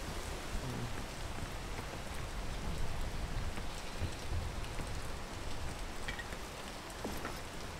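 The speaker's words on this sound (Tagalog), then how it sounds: "Ay, umuulan." Steady rain falls outdoors along a mountain peak trail, a dense, even hiss of drops on surfaces with occasional louder patters, continuous and fairly loud throughout, no voices.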